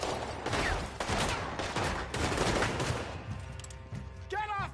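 Gunfire in Red Dead Redemption 2, a loud, rapid volley of overlapping shots and cracks filling most of the moment, thinning toward the end where a brief shout rises over it.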